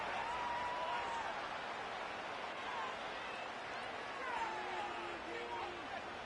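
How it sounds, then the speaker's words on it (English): Stadium crowd in a Madden football video game, a steady dense roar of cheering and hubbub throughout, with faint whistling tones rising and falling over it, fairly soft and constant. "This crowd is making it tough down deep in the red zone."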